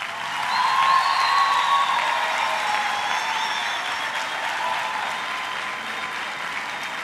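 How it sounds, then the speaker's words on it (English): A graduation ceremony audience applauds with steady, dense clapping that swells quickly, then holds at a full, even level for several seconds without any voices over it. "give them a round of applause for helping you to get here today?"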